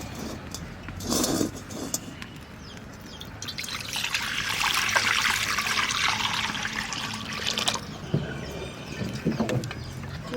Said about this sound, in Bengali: এবার আমি গরম জলটা ঢেলে নেব